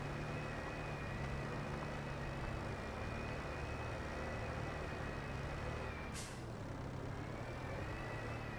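A Massey Ferguson 6S tractor engine in Farming Simulator, a steady droning hum at moderate level that holds evenly throughout, with one brief hissing burst near the end.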